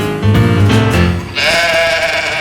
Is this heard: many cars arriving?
no